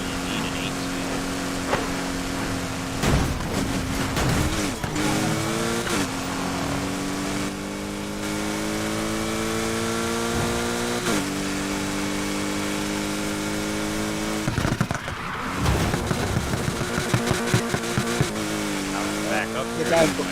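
In the video game Need for Speed Heat, a car with an 8-speed gearbox revs and climbs through its gears, pitch rising then dropping at each shift, loud and near, while someone talks over it.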